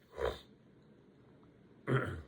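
Two short, rough allergy coughs or throat clears close to the microphone, separated by a pause of about a second and a half.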